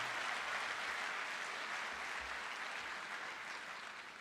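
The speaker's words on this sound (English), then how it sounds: "So let's give another round of applause to Leanne Cambrick." Sustained audience applause at a university convocation ceremony, a dense steady wash of many hands clapping that fills the room and tapers slightly toward the end, with no talking over it.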